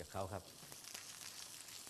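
Beef steak sizzles in very hot oil in a pan, a steady soft hiss and crackle after a brief low voice at the start.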